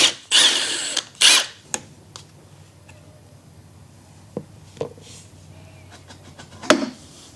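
Power tool bursts while removing the exhaust from a Honda Tecate quad, two short loud whirs at the start followed by scattered clicks and taps in a quiet space.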